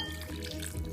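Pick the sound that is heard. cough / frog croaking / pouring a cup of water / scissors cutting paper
pouring a cup of water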